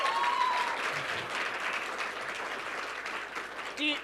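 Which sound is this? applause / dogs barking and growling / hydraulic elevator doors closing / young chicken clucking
applause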